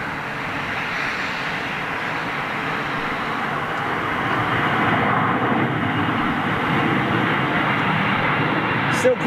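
A Boeing 747-400 with raked wingtips passes at Heathrow. Its engines make a continuous heavy roar that grows slightly louder midway and holds steady.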